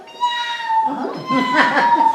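A woman imitates a cat's meow for comic effect, drawn-out whiny mewing that rises and wavers over about two seconds, close and fairly loud, with a bit of laughter mixed in.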